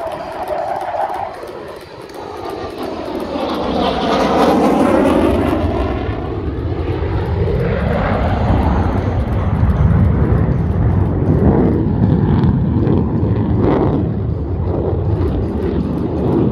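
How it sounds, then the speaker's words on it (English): A Rhino demo team jet at the Chennault 2023 airshow banks through a tight minimum-radius turn, its engine roar swelling with a sweeping pitch shift as it passes, then holding as a loud, sustained rumble. "watch as the aircraft enters from the left, rolls into a 90-degree angle of bank turn, and demonstrates the minimum radius turn to vertical tail stand"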